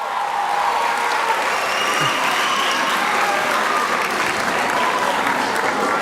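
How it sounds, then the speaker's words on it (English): Sustained applause from parents and guests in an audience at a high school graduation ceremony, a steady dense clatter of many hands holding level for the whole stretch, with a faint whistle riding above it. "Parents and invited guests, please give a round of applause to these people"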